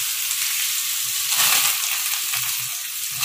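Chili and curry leaves with cumin and mustard seeds crackle in hot oil within appe batter, a steady close sizzle with a brief louder swell of frying midway.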